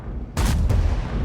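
A BZ-68 tank's gun fires a single shot in a video game: a sudden heavy blast followed by a booming, rumbling tail.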